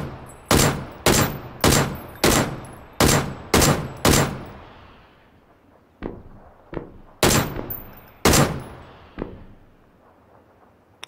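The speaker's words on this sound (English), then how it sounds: "I'm getting shot at, but I can't see the guy." Gunfire in PlayerUnknown's Battlegrounds: six loud evenly spaced rifle shots, each with a trailing echo, then a pause, fainter scattered shots, and two more loud reports before the sound dies away.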